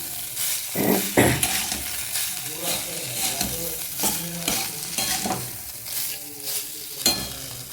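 Rice is fried and stirred in a pan for a home breakfast, with a steady sizzle under repeated scraping strokes of a spatula against the metal, loud and close.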